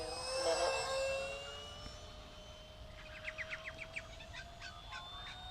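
A Tech-One Neptune EDF RC jet wing makes a full-throttle pass, its high ducted-fan whine strong at first, then dropping in pitch and fading as it moves away.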